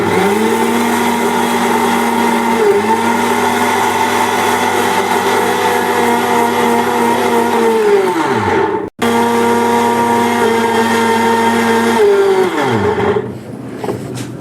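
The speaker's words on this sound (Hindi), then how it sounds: "तो अब पीसते हैं इसको, भून के अच्छी खुशबू आएगी ना इस पे" A mixer grinder grinding roasted spices runs as a loud, steady motor whine close by, winding down twice and restarting between runs.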